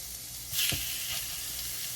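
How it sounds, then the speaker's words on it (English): Chicken thighs hit a hot skillet skin side down with a sudden burst of sizzling that settles into a steady, loud hiss. "The skillet should be nice and hot. Add that sizzle."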